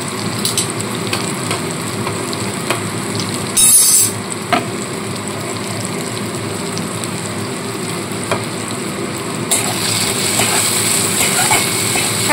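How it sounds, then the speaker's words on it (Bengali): Ground spices sizzling and frying with soft onion and tomato in a pan, a steady close crackle with occasional stirring scrapes and a brief louder splash as a little water goes in. "সামান্য জল দিয়ে মশলাটা একটু কষিয়ে নেব।"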